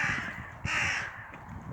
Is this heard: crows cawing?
yes